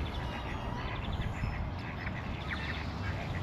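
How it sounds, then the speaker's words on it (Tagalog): Wild ducks quacking in a scattered, overlapping chorus outdoors, steady and moderately loud against a constant background wash. "may mga wild duck na nakatira dito"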